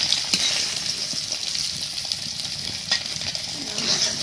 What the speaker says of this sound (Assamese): এতিয়া ফুলকবিখিনি ভাজি লোৱা হ'ব